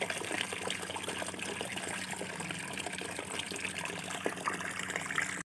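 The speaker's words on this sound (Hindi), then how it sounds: "और इसमें थोड़ा इतना 5 लीटर पानी और मिक्स कर लूँगी।" Water gushing steadily into a bucket as five litres are poured and mixed into homemade liquid fertilizer for hibiscus and garden plants, a continuous fairly loud pour with no talking.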